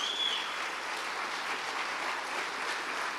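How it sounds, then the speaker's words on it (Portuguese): A church congregation bursts into steady, sustained applause that fills the room at even loudness throughout, with no speech over it. "Podemos aplaudir esse Deus muito forte, meu Deus."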